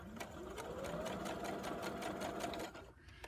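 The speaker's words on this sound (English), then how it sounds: "you put it under your presser foot and you start sewing" Sewing machine stitching through two layers of fabric, a fast steady mechanical chatter close by that runs for most of the moment, then slows and fades near the end.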